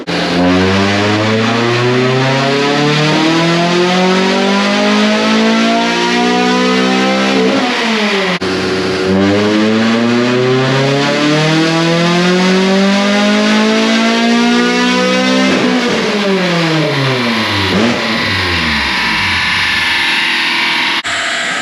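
A Honda Civic with a swapped G23 engine revs hard in repeated long climbs, each a loud rising engine wail that drops sharply as the clutch slips and the revs flare, three or four pulls in a row, close and unbroken.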